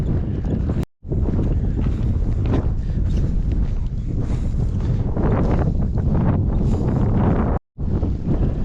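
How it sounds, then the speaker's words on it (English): Strong wind gusting over an open mountain lake in the Sierra backcountry of the Golden Trout Wilderness in fall, a loud continuous roar buffeting the microphone, with two brief dropouts. "Wind's starting to come up"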